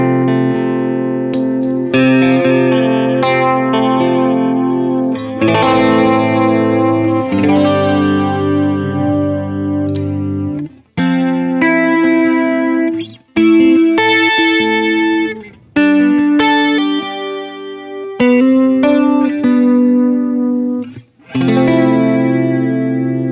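An electric guitar played through a Walrus Audio Julia chorus pedal set to sine wave rings out in sustained chords and melodic phrases with a lush, gently wavering shimmer, separated by brief pauses.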